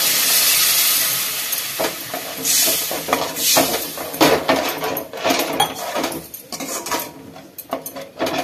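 A pot of soya gravy with masala and water boiling on the stove, giving a steady hiss with irregular bubbling pops and occasional clinks of utensils against the pot, heard without talk.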